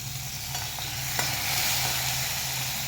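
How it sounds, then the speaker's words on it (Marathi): Finely chopped potato sautés with green chilies in a pan, a dense continuous sizzle with occasional stirring scrapes, steady and close with no voices. "याच्यात बटाटा पण बारीक चिरलेला बटाटा घालून घ्यायचा हेला चांगलं परतून घेऊ आपण"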